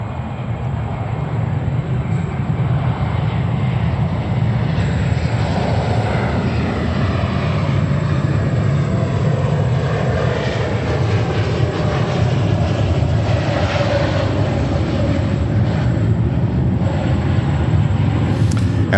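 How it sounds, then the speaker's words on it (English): A JetBlue Airbus A321neo airliner arrives at New York JFK, its engines a loud, steady roar that holds throughout with no voices. "Current inbound is a JetBlue, a 321 Neo from Santiago de los Caballeros."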